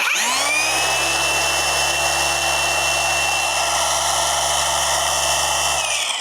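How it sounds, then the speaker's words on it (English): A cordless car polisher runs at speed 6 with a steady, even whir that has a high whine over a low hum. It starts and spins down near the end, with nothing else heard. "I wanted to show you the noise quality of some of the best polishers in the world."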